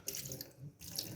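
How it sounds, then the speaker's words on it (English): Distilled water poured over a computer board from an IBM ThinkCentre M50 8188 under restoration, a short steady splashing trickle with a brief pause. "we're going to clean this board with some distilled water"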